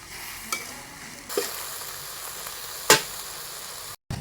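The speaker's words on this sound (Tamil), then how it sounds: "நம்ம இதுல போட்டது எல்லாமே எண்ணெயில நல்லா வதங்கணும்" Mint chutney ingredients sautéing in oil in a pan, a soft steady sizzle broken by a few sharp scrapes and clacks of stirring, close by with no talking.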